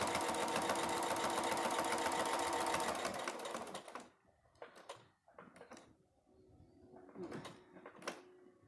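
A sewing machine stitching quilt binding runs steadily for about four seconds, then stops, followed by scattered handling clicks and soft knocks as the fabric is moved.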